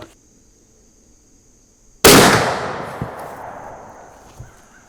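A .50 caliber muzzleloader fires a single Hornady Bore Driver FTX 290-grain bullet in a sudden, very loud close blast that decays over a couple of seconds, following near silence with a faint steady whine.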